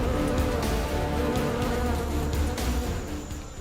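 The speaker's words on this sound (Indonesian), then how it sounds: "Sebab odeng yang terkenal amat ganas ini akan menyerang tak henti-henti." A swarm of giant honey bees attacking honey gatherers high up, producing a dense, continuous loud buzzing drone that fills the whole stretch without letting up.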